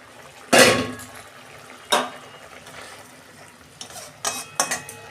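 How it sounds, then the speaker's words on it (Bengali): A metal lid lifted off a pot of prawn malai curry simmering on the stove, with a sharp clank at the start, another knock a little later and a few lighter clinks near the end over a quiet background. "আমি ঢাকনা খুলছি।"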